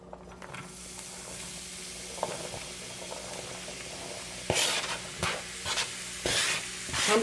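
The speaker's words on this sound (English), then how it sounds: "I'm just going to lightly saute these" Vegetables sauté in olive oil in a pan for spaghetti sauce, with a quiet sizzle under repeated spoon-stirring scrapes. Louder bursts of stirring and frying come near the end.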